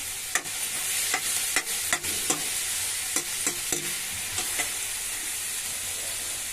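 Capsicum pieces are tossed and fried in a pan for bottle gourd curry: a continuous loud sizzle broken by repeated quick spatula scrapes and clacks, close up and without talk.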